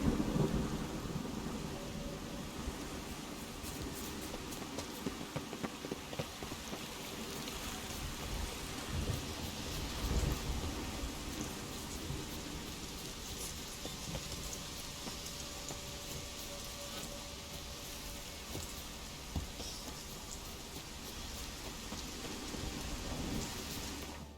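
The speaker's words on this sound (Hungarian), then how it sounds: "Nagyon csúnya ez a vihar amúgy." Thunderstorm in The Witcher 3: steady heavy rain hissing and pattering throughout, with low rolling thunder rumbling underneath, continuous and immersive with no talking.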